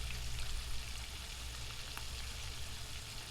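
Bluegill fillets frying in a pan give a dense, even hiss of bubbling oil with a faint pop or two, steady and close, with no talking.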